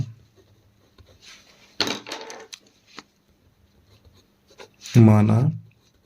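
A pen scratches across paper while a Class 10 maths geometry problem is worked out, giving faint, short scratchy strokes between stretches of someone talking.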